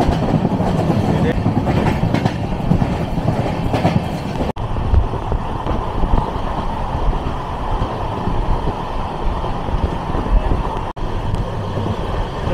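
Continuous loud rumble of a Konkan Railway train crossing a river rail bridge near Kaman Road, with steady rattling and clatter close up, heard from on board throughout.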